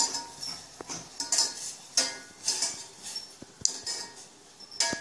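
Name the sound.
stirring Maggi noodles with masala in a pan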